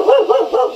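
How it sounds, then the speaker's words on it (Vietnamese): A village dog in a hillside settlement barks three times in quick succession, loud and close, with no talk over it. "Cẩn thận chó nhá."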